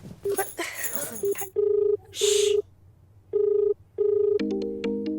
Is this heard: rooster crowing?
no